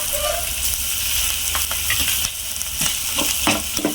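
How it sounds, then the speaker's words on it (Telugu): Ginger paste fries in a pan with a steady, close sizzle, broken by a few clattering stirs toward the end. "పచ్చి వాసన లేకుండా ఫ్రై చేసుకోవాలి"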